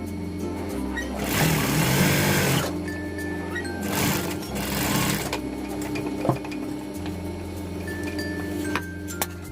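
A sewing machine stitching a round decorative cushion runs in two loud bursts of rapid mechanical whirring with a steady motor hum between them, close by, with no talking.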